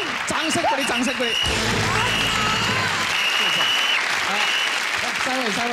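A studio audience at a Taiwanese TV variety show claps steadily and fairly loudly throughout, with voices talking and exclaiming over the applause.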